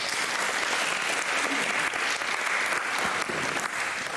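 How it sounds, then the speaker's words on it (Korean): A church congregation breaks into steady, sustained applause during a Sunday prayer service for Korean peace and reunification at a mission church in Berlin. The clapping is dense and continuous throughout, with little speech underneath. "인사하고 생활 박수로"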